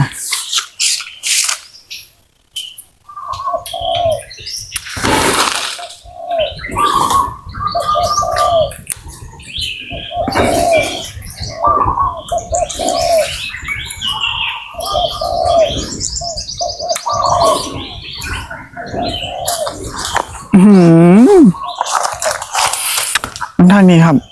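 Birds chirp and doves coo outdoors, with flapping wings, while people talk throughout and a brief whistling tone rises near the end.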